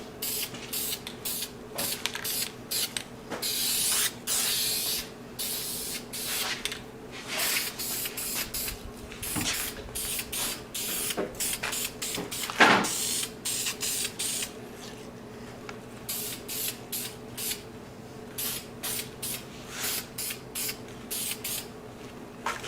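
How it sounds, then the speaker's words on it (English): Primer sprayed in short, repeated bursts onto the fairing of a Honda Sabre cafe racer build, a close hissing aerosol that starts and stops over a steady low background hum, with no voices. "Let's primer this fairing. Nice light coat to start with"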